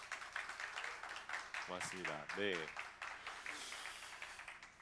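Applause from an audience at a church concert for missionaries featuring a cellist, a steady patter of clapping that lasts several seconds while someone briefly speaks over it.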